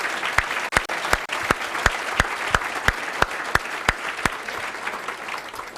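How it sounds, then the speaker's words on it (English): Loud, close applause rings out at an award ceremony for public service, underpinned by a steady broadband patter of clapping hands and punctuated by about a dozen sharp, evenly spaced individual claps standing out on top. "Let's give all those folks a round of applause."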